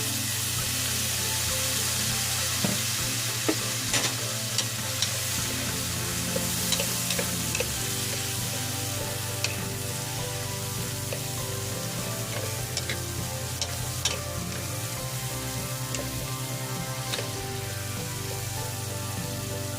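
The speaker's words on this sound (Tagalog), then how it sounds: "Lutuin lang muna natin yan guys, ang ating sibuyas." White onions sauté in a pan with chili, a loud, continuous close sizzle dotted with crisp crackles and pops, no voices.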